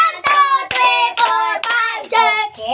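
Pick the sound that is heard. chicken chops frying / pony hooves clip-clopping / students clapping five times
students clapping five times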